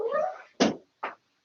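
A house cat meows three times, a longer drawn-out call followed by two short, sharp meows, close and clear with brief silences between.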